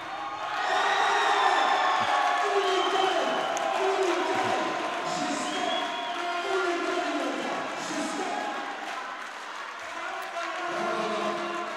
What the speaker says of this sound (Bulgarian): Пламен Иванов обира овациите на препълнената зала Младост.